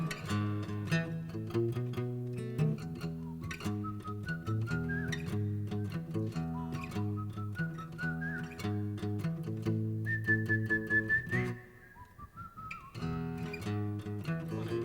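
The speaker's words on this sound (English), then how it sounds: "Whistle along with me." Whistling carries a tune over live music at a performance at the Texas Music Cafe. The melody runs steadily above a full, loud backing with no talking.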